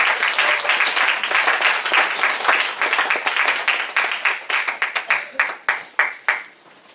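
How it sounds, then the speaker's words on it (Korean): A church congregation applauds warmly after introducing a testimony, steady at first, then breaking into scattered individual claps that thin out and fade away. "박수로."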